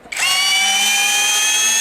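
A MASARU cordless drill, rated about 40 to 60 newton-metres, spins up after a brief click and drives a large screw into wood with a steady high whine that holds at full loudness, close and alone.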